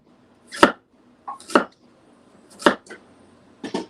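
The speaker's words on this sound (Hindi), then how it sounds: "मैं उसको चॉप करूँगी" Four sharp knife chops through ginger on a cutting board in a home kitchen, spaced about a second apart, close and clear with no talking.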